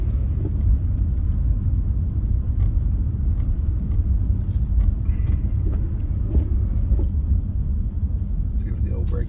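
A car driving on a snow-covered road during the first snowfall of fall, between Fairmont and Clarksburg, heard from inside as a steady, heavy low rumble of tires and engine without letup.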